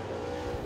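A super late model race car runs on a dirt track during qualifying at Crossville Speedway. The engine gives a brief, continuous loud roar.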